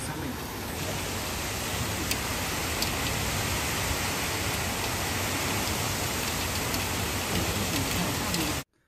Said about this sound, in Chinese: 宁波今天下午不只是那个狂风暴雨，而且还下冰雹